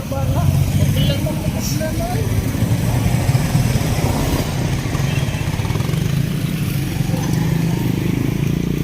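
Motorcycles and tricycles on a road near a checkpoint, a continuous loud engine drone close by with idling and passing tones, under ongoing talk.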